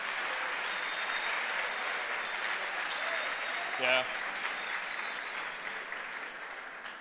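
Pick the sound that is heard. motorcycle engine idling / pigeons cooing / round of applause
round of applause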